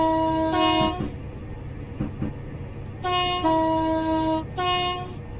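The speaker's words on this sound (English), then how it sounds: "It sounds like three horns, but it isn't. It's just both sounds playing at the same time." A video game train horn blares in several bursts, two horn sounds overlapping into a triple-tone effect, with short gaps of rumbling between blasts.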